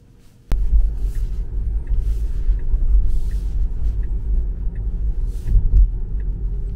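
A 2022 Tesla Model 3 Long Range cruises on a highway on a chilly day. Its steady low road rumble and hum starts abruptly and continues throughout with faint rhythmic ticking.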